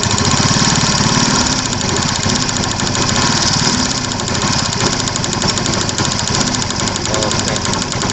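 A motorcycle engine having its throttle opened runs loud and close with a steady, buzzy, slightly knocking drone that holds level for the whole stretch, with no pause in the sound.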